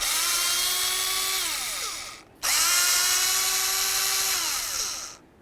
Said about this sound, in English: Let's go ahead and remove both bolts and then remove the IAC valve from the throttle body.